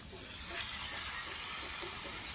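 A fish head with cabbage frying in a pan, giving a steady, quiet sizzling hiss with soft stirring underneath and no voices.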